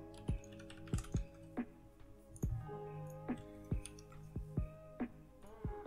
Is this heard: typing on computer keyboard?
yes